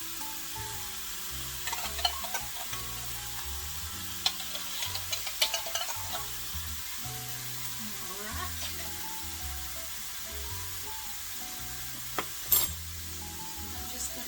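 Canned mushrooms, a whole can's worth, sizzle softly in a pan on the stove, with occasional sharp clicks and scrapes from stirring standing out over a steady low frying hiss.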